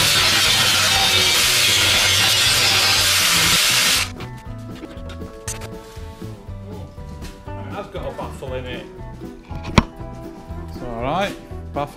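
Aluminium being cut on a Ford Transit Mk1 van, a loud harsh continuous grinding hiss for about four seconds that then stops, leaving quieter workshop clatter and a sharp knock.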